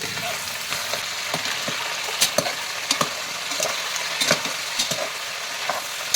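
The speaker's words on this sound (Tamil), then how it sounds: "நல்லா வதக்கலாம்" Country chicken with curry leaves sautéing in about fifty grams of oil in a pressure cooker, a steady close sizzle with scattered sharp crackles and spatters throughout.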